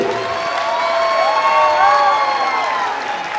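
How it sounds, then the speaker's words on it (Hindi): A large crowd at an outdoor political rally claps and cheers in a sustained swell, with whoops and raised voices rising mid-way and staying loud before easing slightly at the end. "जोर से ताली बजाओ हेमंत जी के लिए।"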